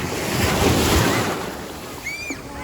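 Waves wash onto the shore with a broad rushing surge amid wind noise, and a faint high chirp briefly rises near the end.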